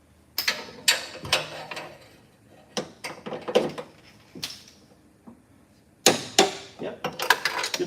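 A torque wrench tightening RSS mount bolts to 18 foot-pounds, giving a series of sharp metallic clicks and ratcheting bursts in irregular clusters, close and fairly loud with brief pauses between.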